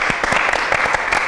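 Steady applause from a seated audience at a live evening event, a dense wash of many hands clapping at an even level throughout, with no voices standing out.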